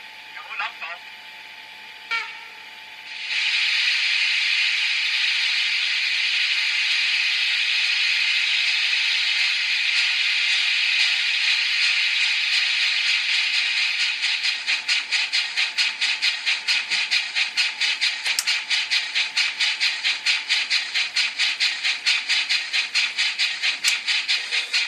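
A ROCO 63205 BR 01 model steam locomotive fitted with a DCC sound decoder lets out a long, loud, steady hiss of steam after a few brief whistle-like bursts, continuing with rapid rhythmic chuffing pulses near the end.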